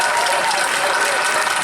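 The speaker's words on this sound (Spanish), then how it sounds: "Un aplaudiment a Manolo Lluc." Audience applause for a band soloist at a concert, a dense, even wash of clapping that holds steady from start to finish.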